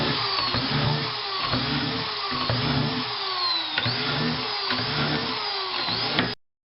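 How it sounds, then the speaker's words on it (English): Power drill boring a set of binding mounting holes through a race ski held in a jig, a steady loud whine that dips and surges in repeated bursts as each hole is cut, stopping abruptly near the end. "And drill our set of holes again."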